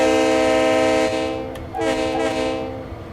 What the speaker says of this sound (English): That is what you call a proper American train horn.